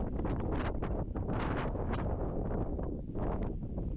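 Strong wind gusts roar and buffet the microphone with uneven surges at a hilltop dinosaur dig site on a ranch.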